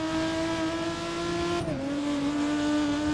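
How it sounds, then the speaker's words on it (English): A race car in GRID (2019) rolls over rumble strips, giving a loud, steady buzzing engine-and-vibration tone that dips in pitch midway, then settles back into the continuous drone, with no voices. "that sound from a rumble strip doesn't snap you to attention"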